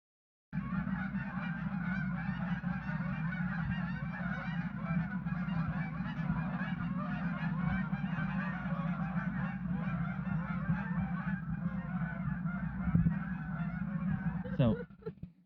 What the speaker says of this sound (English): didn't see anything except for about 150 geese in the field behind me